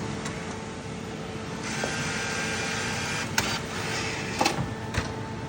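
A WMS BB3 Blade slot machine powers on and starts to boot with a steady electrical hum and fan whir, broken by a few short mechanical clicks and clunks.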